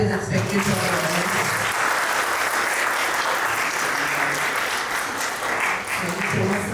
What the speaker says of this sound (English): Big clap is expected from our audience.